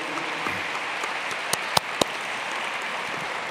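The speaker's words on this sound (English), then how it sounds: "I have to stop your applause once again, but I'm sure it would have gone on much longer" Sustained audience applause in Florence Cathedral Square during a Catholic Church event, a dense steady patter of many hands at moderate distance, with a few sharper isolated claps standing out near the end.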